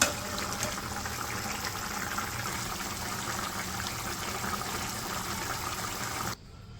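Vegetable and fish curry simmering in broth in a village kitchen, a steady bubbling wash of liquid sound, close and continuous, ending abruptly.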